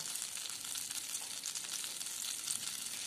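Butter sizzles and fries in a pan for Mumbai pav bhaji, a continuous soft crackling hiss heard alone at low volume.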